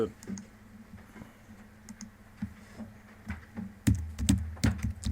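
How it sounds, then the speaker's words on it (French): Fingers type text on a computer keyboard, irregular clusters of soft clicks and thumps that grow busier and louder toward the end, with a voice speaking under the keys. "je vais taper un texte"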